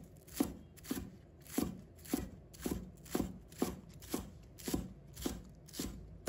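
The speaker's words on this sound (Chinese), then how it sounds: "把它切成葱花" A knife chops green onions on a cutting board in a steady rhythm of about ten crisp, evenly spaced strikes, close and clear with no talking.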